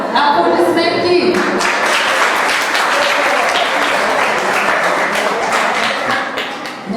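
Wedding guests at a civil marriage signing in Kuklen burst into loud, sustained applause that fills the room for several seconds. A brief voice is heard at the very start before the clapping takes over, fading slightly at the end.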